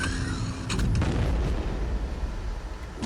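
A bomb blast in the video game Shadow Warrior lands as one loud, booming burst with a rumbling tail that fades over a few seconds.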